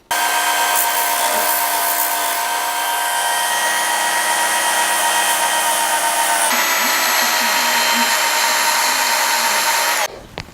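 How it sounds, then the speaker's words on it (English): A Work Sharp sharpener grinds the nails studded into a baseball bat, making a loud, steady abrasive whir that runs unbroken for about ten seconds, shifts tone partway through, then cuts off abruptly. No one speaks. "I'm going to touch them up with a work sharp and just sharpen into more points"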